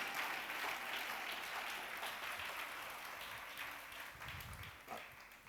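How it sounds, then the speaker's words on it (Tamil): A congregation in a church claps together in a sustained round of applause. Dense, steady clapping gradually tapers toward the end, with faint voices underneath. "நல்ல பலத்த கரகோஷம்"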